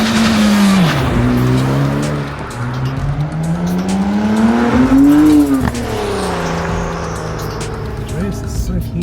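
A Honda NSX on cold tyres accelerates hard close by, its engine note climbing, dropping on a shift, then climbing again to a loud peak before easing off, with voices inside the car.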